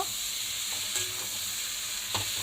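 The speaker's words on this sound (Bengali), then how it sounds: "এর মধ্যে আমি টমাটো কুচি দিয়ে দেবো, দিয়ে একটুখানি নাড়াচাড়া করব" Chopped tomato and frying vegetables are stirred in a hot pan for a vegetarian khichuri, with a steady close sizzle and faint scraping throughout.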